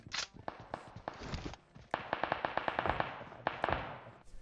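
Rapid bursts of PUBG gunfire, sharp close shotgun cracks in quick succession with a few short pauses, loud and busy throughout.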